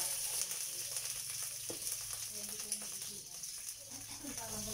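Cooking oil frying in a pan while chicken gizzard bopis is being cooked, a continuous bright hiss and sizzle at low level with faint clinks and quiet talk beneath it.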